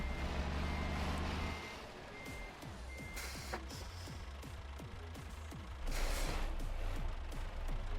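A vintage truck in need of restoration is put into reverse, its engine rumbling while a rapid, regular clicking knock repeats throughout, with a louder roar near the start and a surge toward the end.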